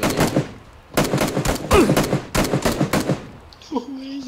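Gunfire in PlayerUnknown's Battlegrounds comes as loud bursts of rapid automatic shots with short gaps between them, followed by a brief electronic tone near the end.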